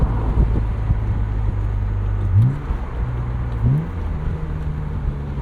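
A 1999 BMW Z3 M Roadster engine drones steadily, with two quick pitch drops and rises as gears change, heard close under strong wind buffeting.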